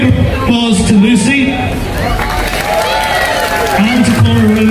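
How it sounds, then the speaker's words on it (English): Crowd applause and cheering at an outdoor Christmas tree lighting event in Ballyshannon, a steady wash of clapping and crowd noise mixed with a voice over a loudspeaker. "So will you give a big applause to Lucy"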